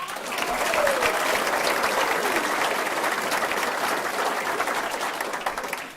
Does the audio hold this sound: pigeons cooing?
no